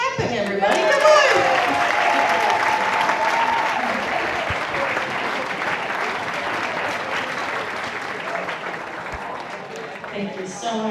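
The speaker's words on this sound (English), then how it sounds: "Let's keep clapping, everybody." Continuous hall applause at the opening ceremony of a youth championship in Tilburg, Netherlands: a full, even crowd of hands clapping for several seconds, with a voice talking briefly over the start.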